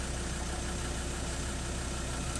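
Vehicle engine idling while running water through a heat exchanger for a hot shower, a steady, even rumble with constant loudness and no voices.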